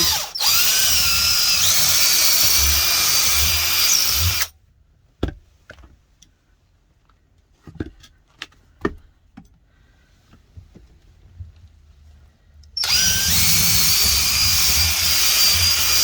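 A loud, steady power drill whines for several seconds drilling a bolt hole in a Freightliner Cascadia truck, falls silent through a stretch of faint clicks and handling noises, then roars back on at full speed.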